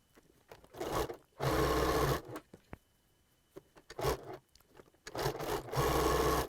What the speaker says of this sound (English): So I'm going to sew my 2 horizontal seams real quick here.